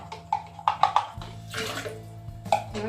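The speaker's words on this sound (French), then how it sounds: "Donc ensuite dans votre récipient vous allez verser le mélange eau et levure." A water and yeast mixture poured into a bowl for olive focaccia, giving a brief close splashing pour after a few light knocks and taps.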